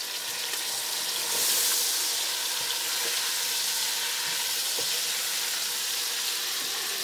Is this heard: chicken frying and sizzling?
yes